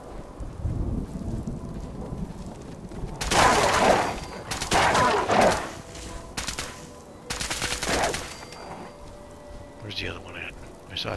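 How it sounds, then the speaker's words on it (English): Bursts of rapid gunfire crackle over steady rain-like noise, loud and close, in several separate volleys, in the video game Fallout 4. "Towards the gunfire."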